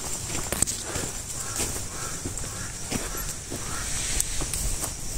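Crows arriving and cawing, a few harsh calls at moderate distance over a steady outdoor background hiss.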